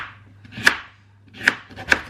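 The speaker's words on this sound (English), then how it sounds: "Okay, turnip is peeled. So now, oh god. Fucking hell. Now we're just gonna chop it up." A knife chops through a peeled turnip on a cutting board in a home kitchen, three sharp, separate thuds spaced unevenly across two seconds, close and clear with no talking.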